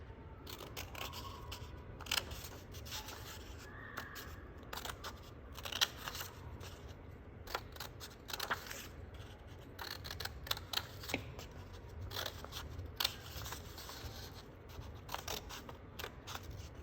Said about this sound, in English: take a pair of scissors and you're going to cut along those lines that you just drew